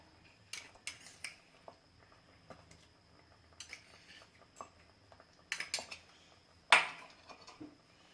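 A spoon mixing salt into a curd-based gravy for paneer kofta, heard as sparse, soft scrapes and clinks against the pot, with one sharper knock near the end, close and quiet.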